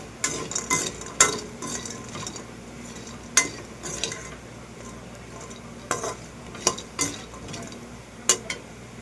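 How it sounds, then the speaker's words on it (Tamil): Vegetables sauté in a small amount of oil in a pan, a low sizzle under repeated sharp clinks and scrapes of a spatula stirring against the metal. "இது கொஞ்சம் நல்லா வதங்கட்டும்."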